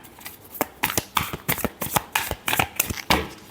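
A deck of tarot cards is shuffled by hand up close, a rapid run of crisp riffling flutters and soft slaps in an uneven rhythm, with no talking.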